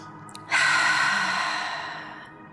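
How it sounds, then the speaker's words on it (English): A single deep breath during a yoga pose, with a brief sharp intake followed by a long, breathy exhale that fades gradually, close and alone. "Take a few deep breaths here."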